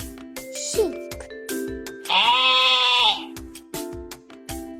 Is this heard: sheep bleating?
yes